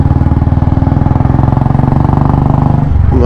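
Loud, close running of a 2021 Royal Enfield 350 motorcycle at night, a steady deep thumping exhaust beat that shifts in pitch near the end as the engine is revved.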